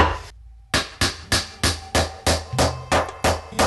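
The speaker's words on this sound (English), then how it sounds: "nailing in the pallet work is a little bit tricky to start off with" A hammer drives nails into pallet wood planks for a garden planter, about eleven sharp, evenly spaced blows after a short pause, loud and close with no speech.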